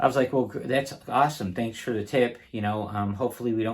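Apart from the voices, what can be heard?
None of the usual background noises is heard.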